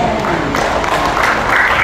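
A congregation claps at a Christian church service, a loud, continuous wash of many hands with a hint of crowd voices, filling the room without a pause.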